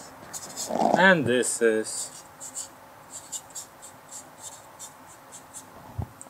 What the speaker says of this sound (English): And in order not to forget, I'm going to write it down.